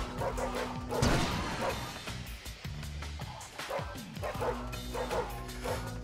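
Dogs in the video game Little Big Planet 3 bark and yip repeatedly over game music and crashing effects, a busy mix of short barks and whimpers.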